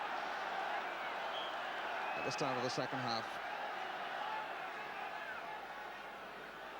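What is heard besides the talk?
football crowd cheering encouragement for Rangers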